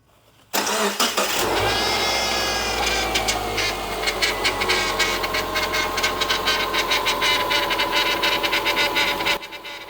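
A 2011 Subaru Impreza Outback Sport with a leaking power steering O-ring cranks briefly, then fires and settles into a steady, loud idle, with a whining, noisy power steering pump running throughout.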